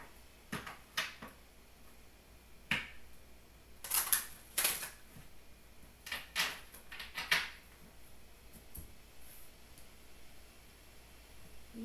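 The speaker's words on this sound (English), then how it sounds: "One more shuffle." Tarot cards being shuffled by hand, soft intermittent riffling and flicking bursts separated by quiet pauses, close and faint.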